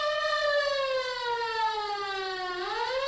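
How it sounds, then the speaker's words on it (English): Civil defense take-cover siren sounding a steady wavering tone, loud and continuous, its pitch sliding slowly downward and then starting to rise again near the end, with no voices. "The take cover signal sounds like this."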